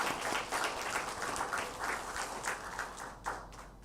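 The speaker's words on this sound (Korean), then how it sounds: "우리 신임 회장으로 선출되신 강주섭 선동님에게 1년 동안 역할 잘 감당하실 수 있도록 축하와 격려의 박수 보내주시기 바랍니다" A church congregation applauds a newly elected president at a Sunday service, steady broadband clapping from many hands that carries on for several seconds at a moderate, somewhat distant level.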